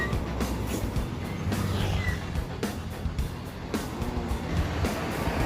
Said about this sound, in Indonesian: ini keberangkatan bus transport Kudo Gadang